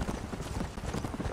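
Horse hooves clip-clop at a steady gallop in the Red Dead Redemption video game, a continuous rhythmic thudding that fills the short clip, close and moderately loud.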